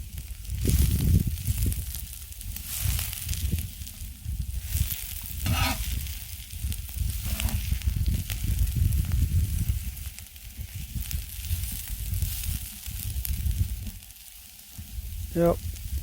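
Bacon and onion sizzling and frying steadily in a pan, a constant close crackle with occasional stirring scrapes and brief talk over it.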